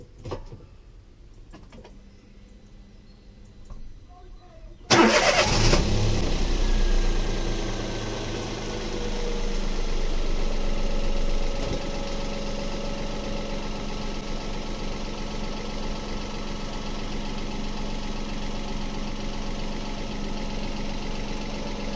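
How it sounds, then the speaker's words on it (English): Near a quiet garage, a Toyota Aygo engine cranks and catches after an oil change, a sharp startup roar that settles within seconds into a steady, even idle held for about fifteen seconds. "we're going to start the engine for about 20 seconds, let the oil circulate"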